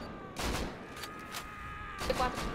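Several sharp gunshots in the game Rust crack out in quick succession, a couple clustered together, over a low background hum with no talking.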